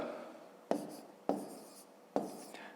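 Numbers written by hand during a fifth-grade maths exercise, three quick pen-on-paper scratches in a quiet room, each a short sharp stroke followed by softer trailing marks, close and faint.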